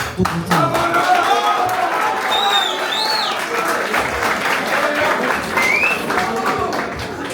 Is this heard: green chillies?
no